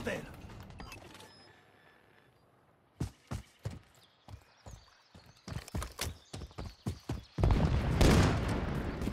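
Gunfire in the video game Call of Duty MW3, a string of sharp separate shots in uneven rhythm that build into denser firing and a louder burst near the end.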